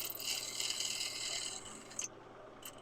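A woodturning scraper rides lightly on wood spinning on a lathe, giving a steady soft shushing hiss at close range, fairly quiet and with no talk.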